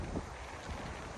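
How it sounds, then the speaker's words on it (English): Strong wind at an outdoor spot in Canada, a brief buffeting gust roaring across the microphone at moderate volume. "The wind's kind of strong, so I gotta be careful"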